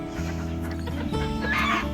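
A white hen clucks in a farm coop, low repeated clucks close by with a brighter squawk near the end.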